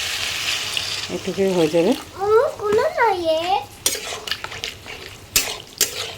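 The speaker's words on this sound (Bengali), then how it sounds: "এইভাবে একটু করে নেড়ে নেড়ে আমি রান্নাটা করে নিচ্ছি ভালো করে" Jackfruit seed curry being stirred in a pan, with a utensil scraping and clinking against the metal in short bursts, and a voice speaking over part of it.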